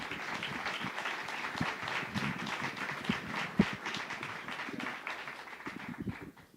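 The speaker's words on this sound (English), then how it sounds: "Please give a nice, warm applause for Mr." Conference audience applauding a keynote speaker, a moderate round of clapping heard from a distance that holds steady, with one sharp nearby clap, then thins out toward the end.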